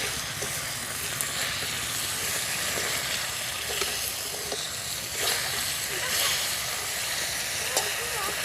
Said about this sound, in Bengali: দিয়ে মশলার সঙ্গে ভালো করে ভেজে নেব।